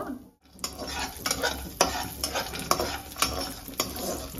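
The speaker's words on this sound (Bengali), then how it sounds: "এখানে ড্রাই ফ্রুটগুলো ঘিয়ের উপর দিয়ে দেবো, এগুলো হালকা করে ভেজে নেব।" Dry fruits fry lightly in a spoonful of ghee in a wok, a steady soft sizzle broken by repeated sharp scrapes and taps of a spatula stirring against the metal, close up and without talk.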